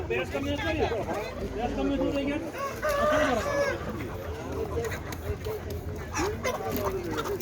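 A rooster crows among chickens in a poultry yard, rising clearly over a steady background of clucking, while people talk nearby.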